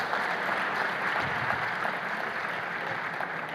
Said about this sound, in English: Another round of applause for the Deputy Secretary General